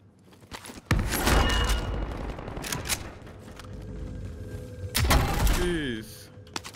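Gunfire in the Call of Duty Warzone video game, with heavy bursts of shots near the start and again around five seconds, sounding loud and close amid game noise.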